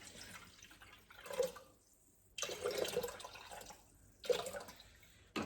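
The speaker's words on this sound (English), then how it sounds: "Just going to start with the eggs in the Thermomix and add about 750 mils of water." Water pours into a Thermomix bowl holding eggs, arriving in a few short, faint splashing bursts separated by brief pauses.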